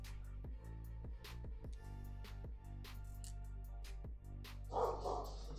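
A dog barks repeatedly, a series of sharp, fairly distant barks in an uneven rhythm that sit over a steady low hum.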